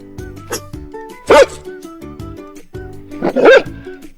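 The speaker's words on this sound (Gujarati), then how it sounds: "ચાલો આપણે કૂતરાનો અવાજ સાંભળીએ" A dog barks twice, loud and close, with sustained musical tones playing underneath between the barks.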